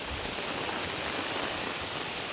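Heavy typhoon rain from Typhoon Kristine pours in a dense, constant hiss, loud and unbroken throughout, with no voices over it.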